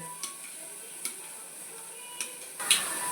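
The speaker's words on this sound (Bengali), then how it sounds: "আমি এটাকে ভালো করে ফুটিয়ে নেব এই দেখুন ঝোলে জাল উঠে গেছে" Fish curry broth bubbling in a pan, a soft steady hiss of boiling with a few small ticks and a brief clink near the end, close with no talk.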